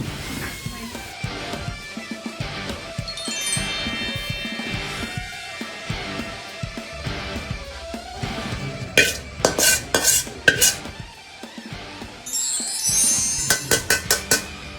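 A metal spatula scrapes and stirs in a wok while stir-frying basil, then a series of sharp clanging taps on the wok, loud and close, in quick bursts.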